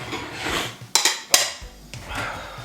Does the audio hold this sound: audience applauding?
no